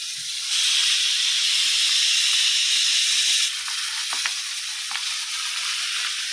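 A pressure cooker with meat inside lets off a loud, steady hiss of steam for about three seconds. It then drops to a quieter background with a few light clicks. No one speaks.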